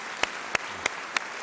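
Audience applause at the AGRF 2016 forum, a brief wash of crowd clapping with a few sharp, evenly spaced claps standing out close by.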